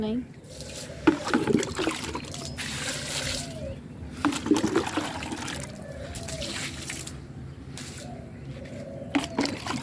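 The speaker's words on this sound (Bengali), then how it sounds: "আমি এখন একটু ছাদে পানি ঢালব একদম গরম হয়ে আছে" Water poured onto a sun-heated rooftop splashes and trickles in uneven bursts, close and moderately loud, with a voice speaking intermittently over it.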